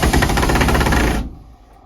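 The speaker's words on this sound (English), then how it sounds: "while I can drill this in" Power drill driving screws into a van panel during a van build, a loud continuous whirring with rapid ratcheting pulses that cuts off abruptly partway through, leaving a quieter tail.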